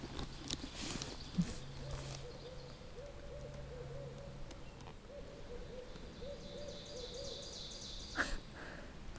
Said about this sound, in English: it's so cool hearing this owl right now.